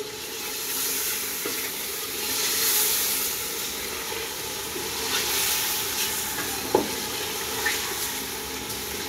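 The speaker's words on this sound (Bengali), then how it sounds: "হালকা লাড়ি দিব এখন আমি" Chicken with biryani masala, chicken masala, turmeric, chilli and curry spices is stirred in a frying pan, giving a steady sizzle with occasional scraping clinks of the spoon.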